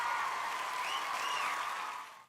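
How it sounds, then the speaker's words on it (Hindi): A burst of applause from a crowd, steady dense clapping sustained for about two seconds before fading out, with no talk over it. "तालियां बजनी चाहिए"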